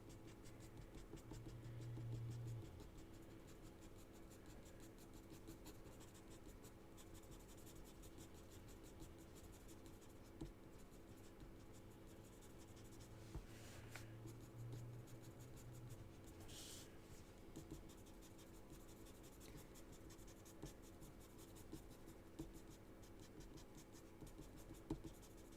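Light, steady scratchy pencil strokes on paper as a colored pencil taps short lines and texture, faint and continuous with no talking.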